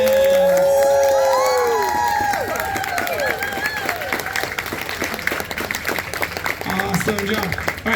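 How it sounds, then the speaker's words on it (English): A school crowd claps and cheers for fourth-grade Level 1 elementary band students, loud and steady, with children's voices and excited chatter mixed through the applause. "Big round of applause for our Leal Level 1 students."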